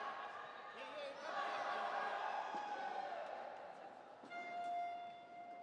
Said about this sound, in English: the familiar sporting cry from the Australian spectators